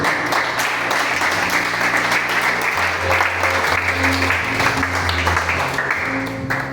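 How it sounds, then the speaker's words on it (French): A church congregation at a French-language Sunday service applauds, sustained dense clapping filling the room at a steady level for several seconds, with faint voices and a low instrumental hum underneath. "Est-ce qu'on peut acclamer le Seigneur?"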